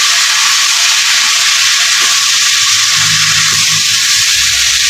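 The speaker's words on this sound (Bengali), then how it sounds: "ভাজিয়ে নিব আনাজটাকে।" Vegetables frying in a pan of oil with bay leaf and cumin: a loud, close, continuous sizzle that holds steady throughout, with a faint low hum underneath.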